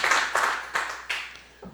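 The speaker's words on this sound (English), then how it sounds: "Give yourselves a round of applause for hanging out with us." Applause from a comedy club audience, a short burst of clapping in several swells that fades out quickly.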